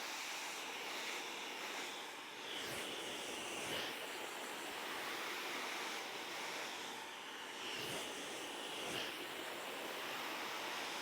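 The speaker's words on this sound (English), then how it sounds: "And as the hair gets drier, you're able to manoeuvre your blow dry brush more." A hair dryer blow-dries hair extensions with a steady, broad airy rush that swells and dips slightly as the airflow moves across the hair, close and continuous with no talking.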